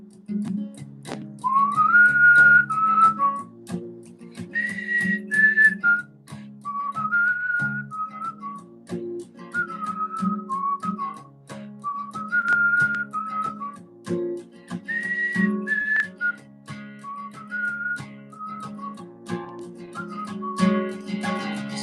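Whistling carries a melody in a song, with short phrases rising and repeating over soft instrumental accompaniment at a relaxed, even pace.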